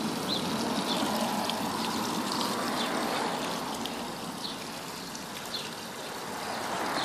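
Water runs at full flow through a PVC aquarium overflow, a steady close rushing and trickling wash that holds throughout without pause.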